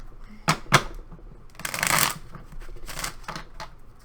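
A deck of tarot cards being shuffled by hand, with a few sharp riffle bursts followed by a longer flurry of dry flicking and slapping, close and fairly quiet with no talk.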